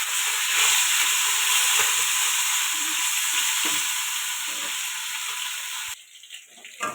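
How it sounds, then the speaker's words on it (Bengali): Fish frying in a wok of hot oil gives a loud, dense, steady sizzle and hiss close up, with occasional faint clinks beneath, before dropping abruptly to a quieter crackle at the end. "এদিকে কড়া বসিয়ে মাছটা ভেজে নেব"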